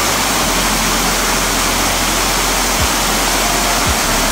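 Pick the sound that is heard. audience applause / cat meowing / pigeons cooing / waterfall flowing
waterfall flowing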